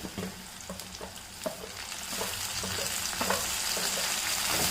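Chopped tomatoes sauté with onions in a pan for a home-style chicken curry, giving a steady close sizzle and frying hiss with occasional stirring scrapes that builds slightly louder toward the end, no voices.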